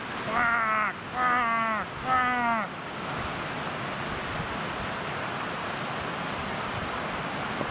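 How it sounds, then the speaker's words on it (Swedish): A crow gives three loud, harsh caws in quick succession outdoors by the shore, then falls silent as steady wind and surf noise continue. "Ja, det är kråken."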